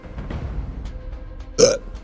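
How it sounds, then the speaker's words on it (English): A single short belch from someone who has been drinking soda, loud and close, following a stretch of quiet room noise. "Been drinking my soda. Giving me the burps."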